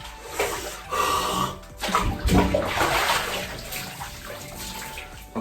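Shower water runs and splashes in bursts, close and fairly loud, rising and falling as the stream hits a body and the floor, with no talk.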